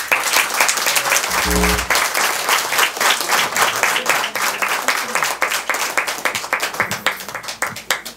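A concert audience applauds steadily and loudly for a singer, dense clapping throughout with a brief low tone near the start and faint voices mixed in.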